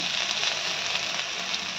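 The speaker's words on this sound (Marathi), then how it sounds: "हिरवी मिरचीचा आणि लसणाचा तडका देऊन घेतलेला आहे गरम तेलावरती" Green chili and garlic tempering sizzles steadily in hot oil, a close, continuous crackling hiss with no pauses, no voices over it.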